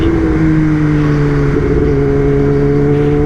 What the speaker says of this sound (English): So bike sounds good in the crisp air out here.